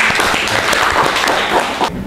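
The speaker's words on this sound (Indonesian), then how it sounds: "Beri tepuk tangan dulu untuk" Clapping for Bunga Salsa fills a school classroom during a civics teaching practice session, a steady, fairly close patter of several hands that runs throughout and then thins out near the end.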